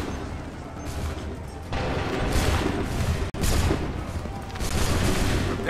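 Musket volleys in Assassin's Creed III, a dense crackling fusillade of many shots firing together in loud bursts with a brief gap between volleys, close and harsh, with shouted commands faintly underneath.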